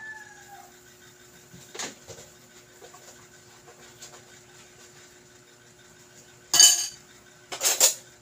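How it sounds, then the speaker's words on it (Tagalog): Plates being washed, with two bright clattering bursts of dishes and cutlery near the end after quieter faint clinks over a low background hum. "Habang naghugas tayo ng plato"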